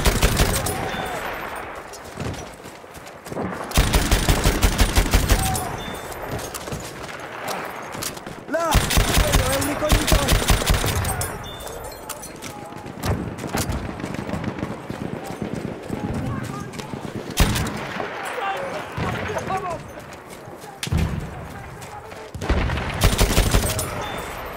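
A Chauchat machine gun in Battlefield fires dense rapid bursts in repeated volleys, loud and close. Galloping hoofbeats run through the shooting, and a voice talks over the gunfire.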